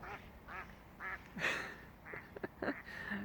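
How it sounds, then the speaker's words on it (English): Ducks quack repeatedly in short nasal bursts, several birds calling close by in an open outdoor space at a campground in Algonquin Park. "Ducks."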